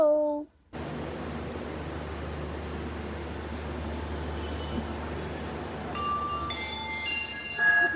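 A steady loud rumble of a train arriving at a station rolls past close by, with a brief squeal and some tonal whines near the end.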